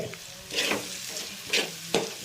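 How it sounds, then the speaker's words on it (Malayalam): Chicken curry masala being stirred in a frying pan, with a scraping spoon moving through sizzling onions and spices in a few distinct strokes over a steady low fry. "ഒരു 5 മിനിറ്റ് നേരം ഇതുപോലെ നല്ലതുപോലെ ഇളക്കി കൊടുത്ത് അതിൽ ശരിയാകുക"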